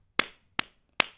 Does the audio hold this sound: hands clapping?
yes